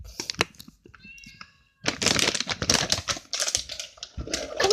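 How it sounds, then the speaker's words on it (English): A house cat meows several times amid a tonal section early on, followed by loud rustling, crinkling and handling noises close by as food packaging is dealt with. "She's meowing and walking around."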